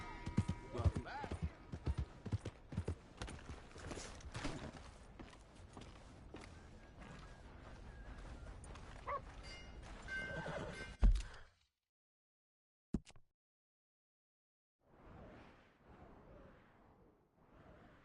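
Horse hooves clip-clop with a whinny in the video game Red Dead Redemption, a dense, busy stretch of game audio with voices that cuts to near silence, then a short click and faint returning sound.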